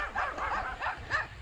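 Small toy dogs yipping and barking at cyclists, a quick series of light, fairly faint barks in steady succession.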